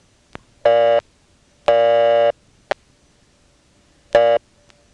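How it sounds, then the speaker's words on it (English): A payphone on an independent exchange in Nantes, Quebec gives a busy signal: loud, clean buzzing tone bursts in a slow on-off rhythm, with a few sharp clicks between them and no talk. "I'm stuck on the busy signal."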